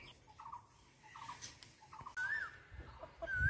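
A young village rooster, its red comb still small, gives a few faint clucks and short squawks in a quiet rural kitchen yard, with low background rumble and a louder burst near the end.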